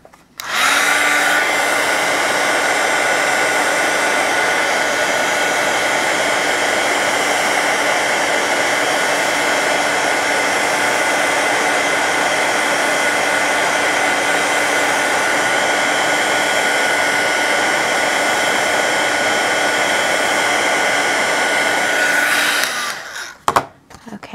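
A hair dryer blows steadily and loudly for about twenty-two seconds, drying wet paint on a card during a colorful shaker card craft, then cuts off abruptly near the end.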